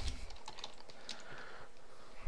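Quick, uneven clicks of fingers typing a comment on a computer keyboard, close and clear, running steadily with no talking.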